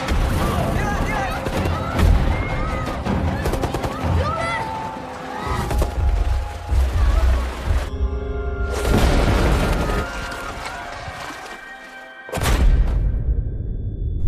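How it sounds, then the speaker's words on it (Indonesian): Film soundtrack of bombs and gunfire striking a refugee camp: heavy booms, sharp gunshots and bursts of fire, loud and layered with dramatic mixing, brief near-silent gaps and a renewed blast near the end. "Bom pun berjatuhan dan baku tembak pun terjadi."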